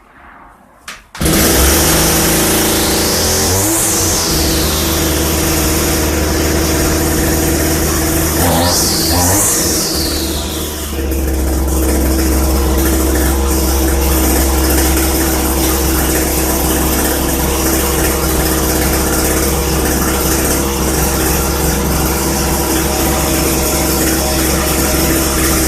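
A 1988 John Deere 210G string trimmer, fitted with a new starter recoil and cover, fires up and runs loud and close with a steady buzzing drone, revving up briefly twice before settling into a continuous run.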